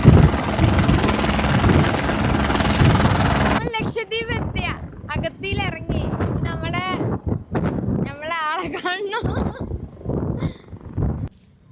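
Steady whirring rotor noise from a helicopter fills the first few seconds, then people chatter and laugh over fainter background noise.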